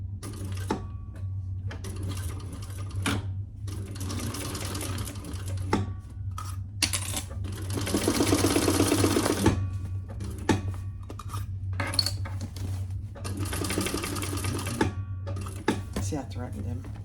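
Sewing machine stitching thin fabric in bursts of rapid mechanical chatter, starting and stopping several times, with a steady low motor hum beneath and occasional clicks between runs.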